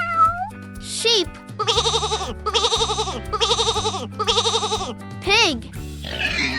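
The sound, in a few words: sheep bleating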